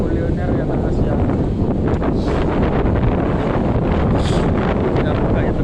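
Strong wind gusts along a waterfront park by a floating mosque, loud buffeting rumble battering the microphone continuously, with faint voices in the background.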